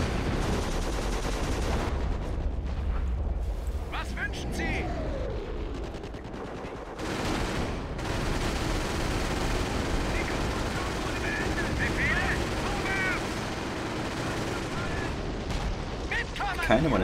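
Artillery rounds land in the trench-defense battle of Company of Heroes Blitzkrieg as dense, continuous rumbling booms and bursts of gunfire, loud throughout with a sharper blast near the end.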